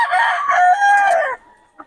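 A single rooster crows once, near and loud, a long drawn-out call lasting over a second before it fades into a short cluck.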